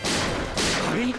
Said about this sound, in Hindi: गोली!